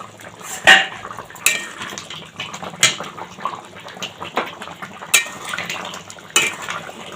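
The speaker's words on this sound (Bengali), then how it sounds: "দেখো বন্ধুরা ঢাকনাটা নামাচ্ছি" A metal lid lifted off a pot of cooking jackfruit with poppy seed, with several sharp metallic clinks and clatters spaced a second or so apart, close and clear over a faint kitchen background.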